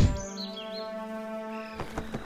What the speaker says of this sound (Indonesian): Itu dia burung pipitnya.